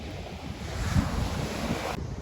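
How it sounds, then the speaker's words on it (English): Surf rolling onto Kalgi Bagh beach in South Goa, a steady broadband wash with wind buffeting the microphone, one slightly stronger wave surge near the middle, continuous and close throughout. "this is Kalgi Bagh beach"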